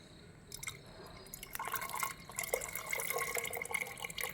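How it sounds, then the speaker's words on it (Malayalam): Melted jaggery syrup for Pesaha appam is poured through a strainer, giving a faint, close trickle with scattered soft drips and splashes and no talking. "ശർക്കര ഒഴിച്ചു കൊടുക്കുക."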